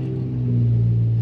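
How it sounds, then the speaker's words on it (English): Nissan 350Z with stock exhaust idling after a cold start, heard from inside the car as a loud, steady low engine hum and rumble. "I'm gonna give you guys a little cold start from the inside."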